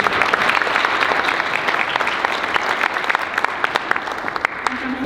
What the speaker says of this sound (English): let's give one more round of applause to thank Joshua Schall